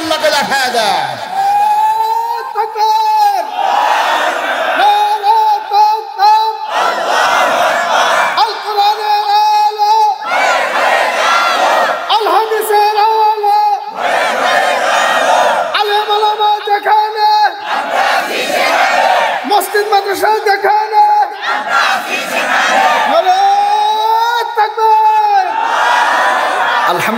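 A large crowd at a Bangladeshi waz religious gathering in Natore, shouting takbir in loud repeated waves roughly every few seconds, with a preacher's amplified voice leading between the collective shouts.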